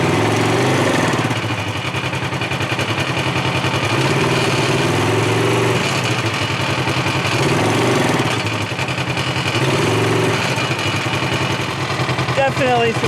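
A Polaris RZR XP 4 1000 side-by-side engine, one with a failing belt and clutch setup, held under a brake stand, giving a loud, steady rumbling drone with surging swells throughout, close to the machine.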